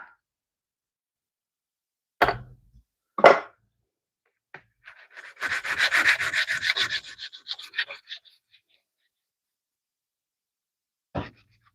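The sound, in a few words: sanding off registration marks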